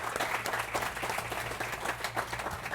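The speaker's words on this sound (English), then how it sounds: "Round of applause again for the panelists." A room at a lithium-ion battery safety book launch applauds the panelists, many hands clapping steadily, fairly quiet and distant, with a low hum underneath.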